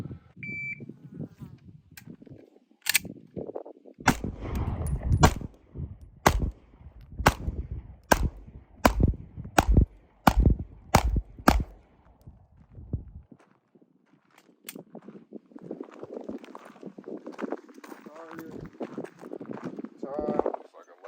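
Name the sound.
Sig Sauer P320 pistol shots fired with ported slide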